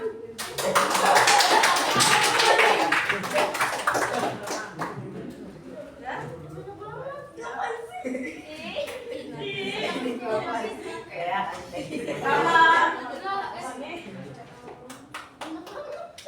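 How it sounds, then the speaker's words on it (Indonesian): A burst of applause from a small group fills the first few seconds, then fades into chatter and children's voices talking. "Tepuk tangan."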